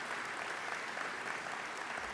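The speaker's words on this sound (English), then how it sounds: "you deserve a round of applause" Steady, evenly textured applause from an audience at a municipal affairs gathering, dense clapping that holds at a moderate level throughout.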